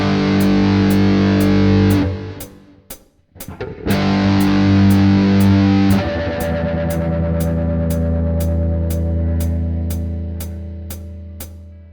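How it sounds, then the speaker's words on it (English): Loud, heavily distorted electric guitar power chords ring out, cut briefly, then sustain and slowly fade while a regular ticking pulse continues. "when you're playing with heavy distortion or a very loud amplifier."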